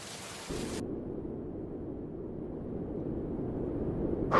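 Monsoon rain pours as a steady, dense hiss with low rumbling thunder beneath, swelling louder toward the end and broken by a brief sharp crack at the start.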